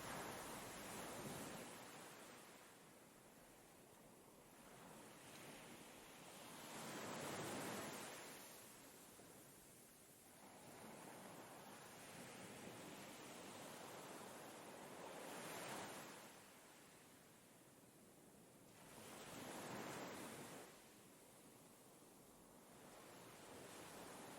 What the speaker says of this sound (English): The grey sea breaks gently on the black sand, leaving behind a dramatic line of white foam.